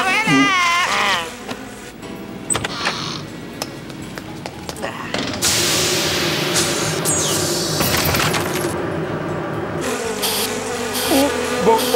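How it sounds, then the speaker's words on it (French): A swarm of cartoon mosquitoes buzzes in a dense, whining drone that rises and swells partway through, while voices speak and shout over it. "Vite, monsieur le maire, les moustiques!"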